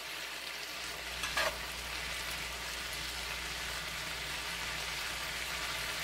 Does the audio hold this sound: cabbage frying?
yes